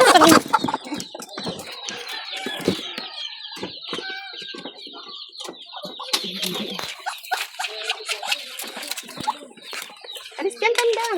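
Rooster and hens clucking and calling loudly and close by in a farmyard, with flapping and scattered squawks throughout, mixed with occasional voices.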